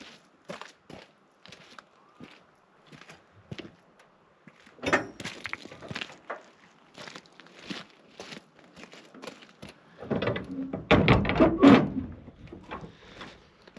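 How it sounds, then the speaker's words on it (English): Rustling and clunking of handling a shipping container's large metal door on a small farm, ending in a loud heavy rumbling slam and scrape; scattered footsteps around it. "just got to shut the container door"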